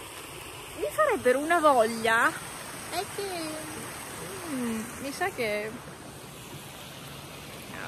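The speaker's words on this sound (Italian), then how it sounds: "Sono arrivata a livello del Boite, cioè dal torrente." The Boite, a cold, clear mountain torrent near San Vito di Cadore, rushes with a steady hiss in the background while someone talks over it throughout.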